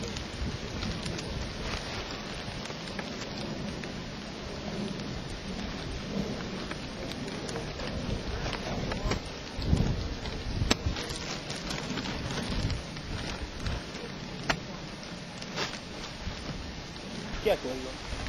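Heavy rain pours steadily on surfaces with rumbling thunder rolling through, loud and continuous throughout, with occasional sharp cracks and distant voices underneath.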